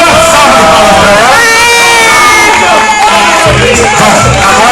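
A party crowd at a family celebration cheers and shouts loudly and continuously, with excited voices and whoops filling the room; individual claps are not distinct under the cheering.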